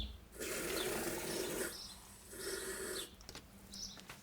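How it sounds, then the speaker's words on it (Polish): Cold water is poured in two separate streams into a white sausage meat mixture, a close, steady splashing rush followed by a short pause and a second pour. "Do mojej kiełbasy wlewam zimną wodę, dwa razy po 200."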